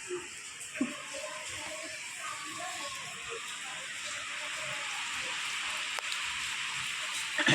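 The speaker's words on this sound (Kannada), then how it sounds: "ಫುಲ್ ಜೋರು ಮಳೆ ಬರ್ತಾ ಇದೆ." Heavy rain pours at night near Kempegowda International Airport in Bengaluru, a steady dense hiss that swells slightly toward the end, with a few faint murmurs underneath.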